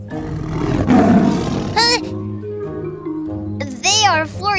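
A tiger in a children's audio story lets out a loud, close roar, followed by brief cartoonish sound effects and a voice speaking.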